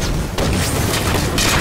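A gunshot lands a headshot in a video game, a loud booming blast that fills the short moment, with a second burst toward the end over a dense noisy game mix.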